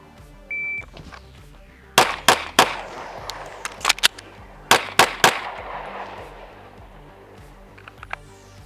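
A Springfield Echelon pistol fires several sharp, loud shots in uneven bursts, each crack ringing briefly against a quiet background, with a short electronic beep near the start.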